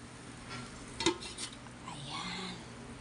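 Soft scraping and clinking of a utensil stirring pakbet vegetables in a pot, with one sharp metallic knock, low and close over a faint simmering background.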